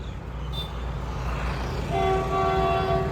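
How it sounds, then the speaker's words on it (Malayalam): A train rumbles steadily close by at Balipara, Assam, and a sustained horn starts sounding partway through. "സോ ട്രെയിൻ വരുന്നുണ്ട് കേട്ടോ നമ്മൾ ആ സൈഡിൽ കൂടി പോകുന്ന ട്രെയിനാണത്"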